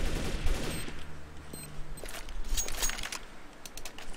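An unsilenced gun firing in CS:GO, a quick run of crisp, moderately loud shots over low game background hum, with faint clicks and no clear talk.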